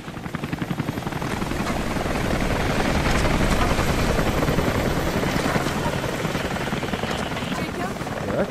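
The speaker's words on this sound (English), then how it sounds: "That chopper is loud." A helicopter in the video game Rise of the Tomb Raider roars steadily close by, its rotor chop pulsing under a loud, sustained engine wash, with voices faintly mixed in.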